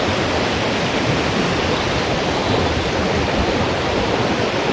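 A river flows beneath a bridge in the Tordai-hasadék gorge in Romania, giving a steady, broad rushing of water that holds at an even level throughout with no voices.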